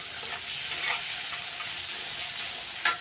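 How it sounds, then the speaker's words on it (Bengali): Onions fry in a pan until reddish-brown, a steady close sizzle with a brief clink near the end and no talking. "এখন আমি পেঁয়াজটা আগে লাল লাল করে ভেজে নেব"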